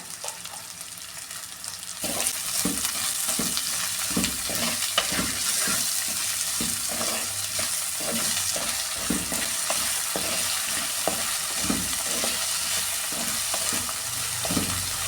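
Onions sautéing in a pan for a sardine curry crackle and hiss loudly after a quieter opening, with a busy rhythm of scraping strokes as they are stirred.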